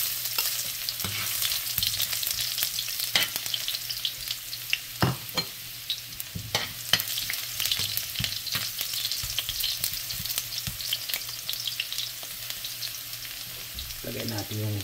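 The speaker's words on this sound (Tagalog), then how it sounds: "So ngayon ay gigisa natin." Pork trotters and ginger sauté in a hot pan for pork-feet adobo, giving a steady, close sizzle broken by frequent scraping stirs, with no talking.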